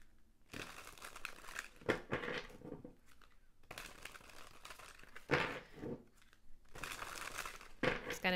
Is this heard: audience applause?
no